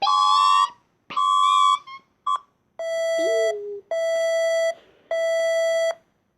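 Emergency Alert System alarm tones blare loudly: three long, high two-tone beeps with a short chirp, then three sustained lower dual-tone blasts separated by brief silences.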